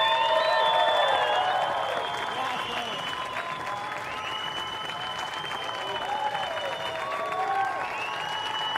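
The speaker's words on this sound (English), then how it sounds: "Let's hear it for your champion, Sawyer Lindblad." A large crowd at the US Open of Surfing finals applauds and cheers surfing champion Sawyer Lindblad, with sustained loud clapping and whistles that ease off slightly midway and carry on to the end.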